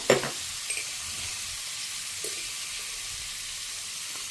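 Chopped capsicum sautéing in oil in a pan in a home kitchen, giving a steady, even sizzle with a few faint clinks near the start and no voices.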